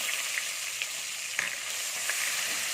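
Crushed onion frying in a pan with panch phoron gives a steady, fairly soft sizzle, broken by a few light clicks of stirring.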